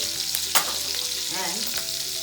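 Split green chili sizzles in hot oil in a pan while veg Hakka noodles are being cooked, a steady close frying hiss with a sharp crackle burst near the start and light stirring scrapes.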